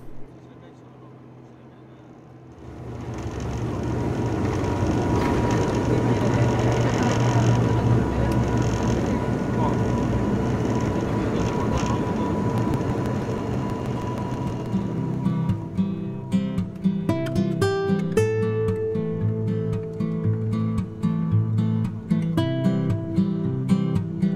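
A Canaryfly airplane taking off from Las Palmas, Gran Canaria, rises from quiet into a loud, sustained broadband engine roar that holds for several seconds before easing as music-like tones take over.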